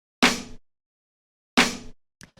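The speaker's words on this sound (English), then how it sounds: "the next sound that we have here is the snare" A layered snare drum sample for trip hop drums hits twice, each a sharp crack with a short decaying tail, well separated by silence, followed by a couple of faint quick ghost taps.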